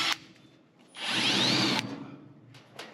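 A power drill bores through a 4130 chromoly roll cage tube on a race car chassis: a short whir at the start, then a loud rising drill whine for about a second as the bit cuts metal, with quieter tool clatter after.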